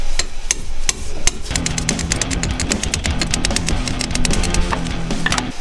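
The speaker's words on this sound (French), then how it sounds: "je vais chercher le marteau" Rapid metallic hammer blows strike a nut on a Mustang repeatedly in quick succession, sharp close-up impacts over a constant mechanical hum.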